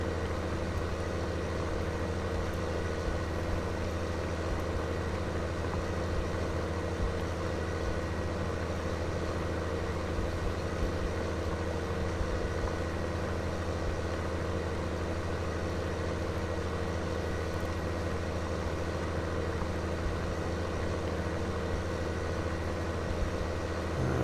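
A tractor engine in Farming Simulator 19 drones steadily throughout during a ploughing session, a continuous low idling rumble at even loudness with no talk.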